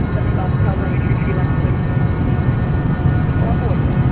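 Jet engines of a Citation Sovereign+ in the MSFS2024 flight simulator roar steadily during the takeoff roll, a dense low rumble with a faint whine above it, loud and continuous.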